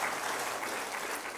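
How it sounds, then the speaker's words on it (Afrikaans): Steady applause from a church congregation during a Sunday worship service, a dense, continuous wash of clapping hands filling the room at even loudness throughout. "Kom ons gee vir hom De Jager 'n lekker hande klap"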